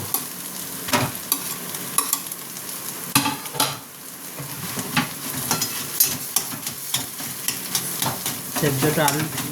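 A vegetable filling for bread chop fries in a pan with a loud, steady sizzle, while a spatula scrapes and knocks against the metal in frequent uneven strokes.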